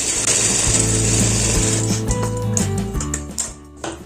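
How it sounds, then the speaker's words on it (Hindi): A sewing machine runs a straight seam along the fabric of a ladies' shirt, a steady close mechanical whirr with tonal hum that slows and stutters toward the end. "सभी जगह से कपड़े को बराबर करते हुए इस पर सीधी सिलाई लगानी है"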